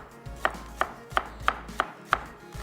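An onion sliced with a knife on a board, giving sharp regular chops about every third of a second, close and crisp with quiet gaps between strokes and no voices.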